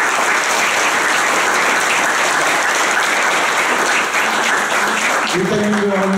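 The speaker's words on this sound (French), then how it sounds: "les premiers applaudissements que je souhaite, c'est pour vous tous qui avez milité en faveur du président Emmanuel Macron." An audience at a political campaign meeting in support of candidate Macron gives loud, dense, continuous applause, with a voice starting to speak just as the clapping tapers off.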